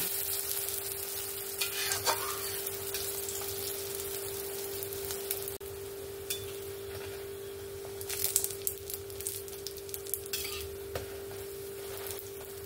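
Lentil and egg fritters frying in hot oil, a continuous sizzle close by, broken by scraping and stirring sounds from a utensil in the pan and a few brief clinks, with no one speaking.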